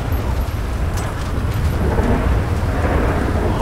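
Thunder rolls through a lightning storm in the GTA 5 video game, a steady, heavy low rumble with rain-like hiss that holds loud and continuous for the whole stretch, with no speech over it.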